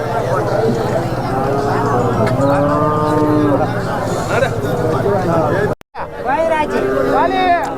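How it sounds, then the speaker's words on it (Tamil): Calves and cows lowing at a busy cattle market in Matrapalli, several overlapping moos rising and falling under steady crowd babble and nearby talk, with a brief cut to silence before more mooing. "நிறைய கண்ணுக்குட்டிங்க இன்றைக்கி வந்து இறங்கிருக்குங்க. அதே போல் பசு மாடுங்க."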